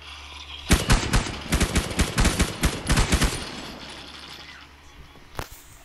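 Rapid bursts of automatic gunfire from a Minecraft game, a dense string of close, loud shots for about three seconds that then fades, with one more sharp shot near the end.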